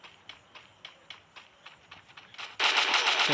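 Rapid in-game gunfire from a mobile battle royale shooter with a Woodpecker and M1887, a steady run of evenly spaced shots that gives way to a loud, dense continuous burst near the end.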